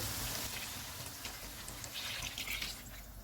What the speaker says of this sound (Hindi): इसमें 1 लीटर पानी डालेंगे